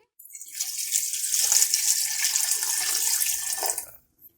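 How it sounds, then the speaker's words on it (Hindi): Water pours from a tap into a beef karahi pot for a pressure-cooked beef bhuna, a steady close splashing gush lasting about four seconds before cutting off. "अब हम इसमें पानी ऐड करेंगे।"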